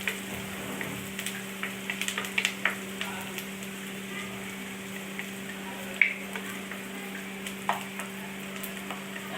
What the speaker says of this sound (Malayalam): കരിവേപ്പില, ലേശം ബ്രൗൺ കളർ വരെ മൂപ്പിക്കാം.